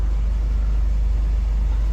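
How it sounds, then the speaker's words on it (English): A loud, steady low drone from a Mazda 6 Skyactiv engine revved to 2000 RPM, close up, holding a constant pitch without words. "So now I rev the car to 2000 RPM."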